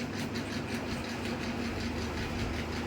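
An electric hair clipper buzzes steadily and close up, running through a boy's short zero-style haircut with a continuous droning hum and no talk.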